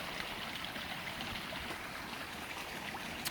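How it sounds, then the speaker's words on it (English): Several small waterfalls in a woodland stream beside an abandoned mill, a soft continuous rushing and trickling wash of water heard at a moderate distance, steady and unbroken throughout. "It sounds like 3 different waterfalls."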